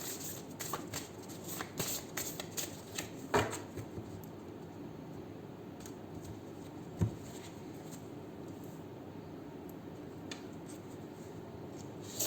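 Tarot cards are riffled and shuffled in a steady papery flutter, close by, with a few sharper snaps and taps along the way.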